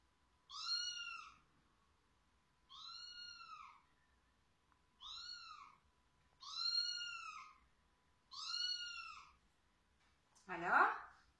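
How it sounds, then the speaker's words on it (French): A domestic cat meows five times in a steady, evenly spaced series of clear, drawn-out calls, alone in a quiet room, followed by a brief louder, rougher sound at the end. "Le chat qui miaule."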